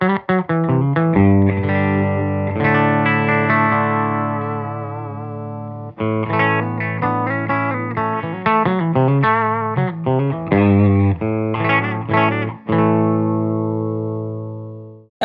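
A Bunting Guitars Melody Queen electric guitar plays through a Mastro Valvola OFF1 octave fuzz pedal into a Benson Amps Monarch reverb amp, producing thick, buzzy fuzz notes and chords in phrases broken by brief pauses, with sustained notes ringing out and decaying.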